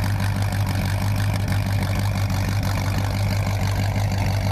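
A 1954 Ford F100 engine idles with a deep, throaty tone through 3-inch exhaust and glass pack mufflers, a loud, steady low drone heard up close without speech.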